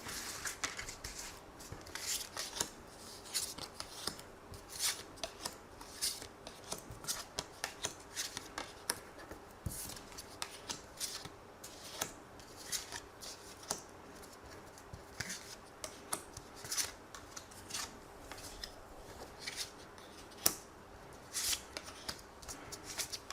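Tarot cards being shuffled by hand for a reading, a continuous soft riffling and patter of card edges with frequent sharp flicks, close and steady throughout, no talking.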